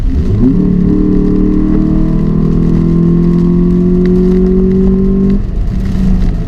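Engine of a 2016 Ford Focus SE while driving, a loud steady drone that rises slightly in pitch then settles, heard close from inside the car with no talking.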